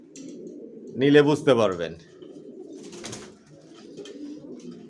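Racer pigeons cooing softly inside a cage, a low steady murmur of calls running throughout, with a person speaking briefly over them near the start.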